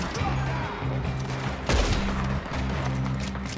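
Gunfire in Red Dead Online, a quick scatter of shots with one loud, heavy blast near the middle, over a repeating game music pattern.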